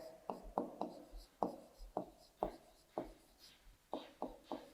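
Handwriting during a Class 4 maths lesson on addition and subtraction: a close, scratchy run of pen strokes in an uneven rhythm, with short bursts and pauses between them.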